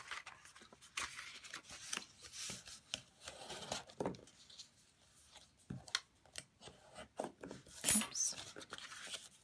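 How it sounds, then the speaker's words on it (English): Score lines on paper card stock being burnished with a tool: close, dry scraping rubs in short irregular strokes, with brief sharper swipes and a soft voice faintly in the background. "This is burnishing, remember?"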